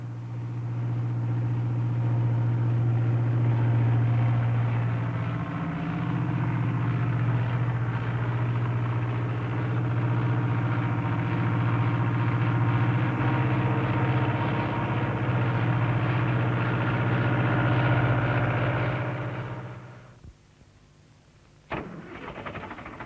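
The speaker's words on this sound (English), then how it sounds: "A tractor is essentially an engine on wheels." A grey Ferguson tractor engine runs at a steady idle with a low, constant drone and faint mechanical rattle for about twenty seconds, then cuts off abruptly, leaving near silence broken by a brief clunk.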